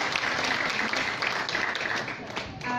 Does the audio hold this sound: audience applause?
yes